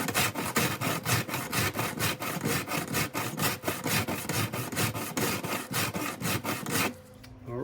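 Rod bearing rubbed flat by hand on sandpaper in rhythmic back-and-forth strokes, a steady series of close, raspy scrapes that stop abruptly near the end.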